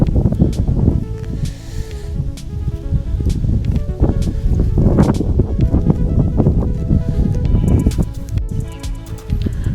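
Wind gusts across an open farm field in winter, a steady broadband rush with rustling and buffeting close to the microphone, continuous throughout with no talk.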